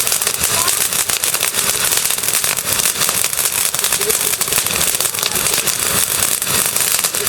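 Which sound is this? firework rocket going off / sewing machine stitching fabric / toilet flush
firework rocket going off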